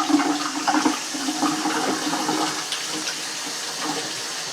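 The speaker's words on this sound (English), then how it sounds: "Let me wash my hands." Running water splashes steadily as hands are washed under a tap during turkey preparation in a kitchen, a fairly loud continuous rush that eases slightly, with no talking.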